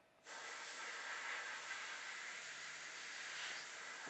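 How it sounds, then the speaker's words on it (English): A fine mist of paint hisses steadily from a sprayer onto a Predator Elder Bio helmet mask, starting abruptly and continuing as one smooth, close, quiet spray with no talking. "Now you can do a fine mist, and it kind of shades it in a little."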